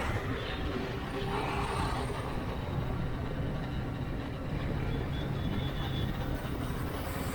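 Large vehicle slowing in busy road traffic at Hinjawadi, heard as a steady, close, low engine and road rumble that continues without a break.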